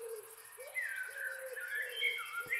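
Small birds in a Minecraft server game chirp and coo in soft repeated calls, faint and steady against a quiet ambient background, with no talking.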